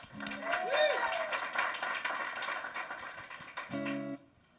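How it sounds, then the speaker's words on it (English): A small theatre audience gives scattered applause for a young singer at a group singing show. The clapping is moderate and uneven, mixed with voices and short tonal bursts, and it drops away at the end. "let's hear a round of applause for Celia"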